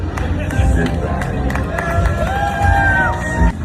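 A lively crowd at a presidential State of the Union address cheers and claps, with shouts and babble rising over scattered applause.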